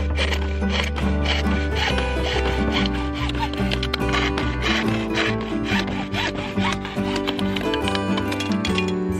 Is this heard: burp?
no